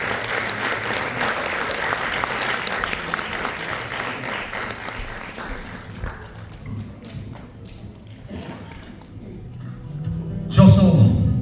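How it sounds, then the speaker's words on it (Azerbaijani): Sustained applause from an audience at an anniversary honouring ceremony, dense clapping that thins after about six seconds, with some talk and a louder voice breaking in near the end. "Alqışlarınız"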